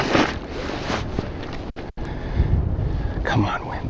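Strong wind buffets the microphone beside open water while fishing, a loud continuous roar with a brief dropout midway; a voice speaks over part of it.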